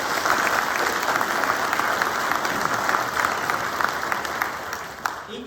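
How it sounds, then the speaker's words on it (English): An awards ceremony audience applauds, producing a steady, loud wall of clapping from a large crowd that holds evenly for several seconds before easing slightly at the end. "Give yourself a round of applause."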